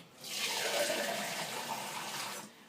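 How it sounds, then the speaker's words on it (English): Water pours steadily into a very full pot of chicken bones and black peppercorns for bone broth, a soft, continuous rushing splash lasting a couple of seconds. "Cover it with water."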